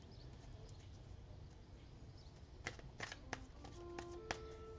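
Tarot cards being shuffled by hand, quiet soft riffling and flicking with a few brief sharper snaps toward the end, close and faint over low room noise.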